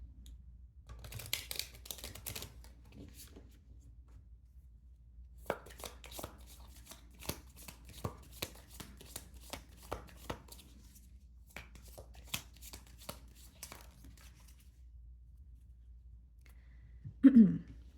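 Oracle and tarot cards being shuffled in bursts of soft, rapid riffling and tapping, close and fairly quiet, with longer pauses between runs and a brief voice at the very end.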